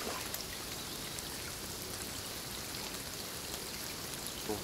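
Rain falling on a lakeside fishing spot makes a steady, dense patter with no breaks, fairly faint and even throughout, with no voices.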